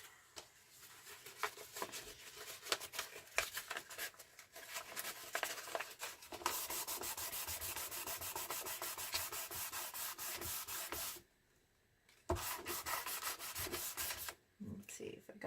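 A dry brush sweeps repeatedly across the satin surface of a resin clock painting, giving a close, steady scratchy rubbing that runs continuously, with two brief pauses near the end.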